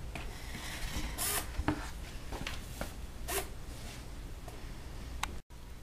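Small servo arm sweeping on a homemade hydroponics control console, giving short mechanical whirs and ratcheting clicks in a few quick bursts, close and fairly quiet against a faint background hum.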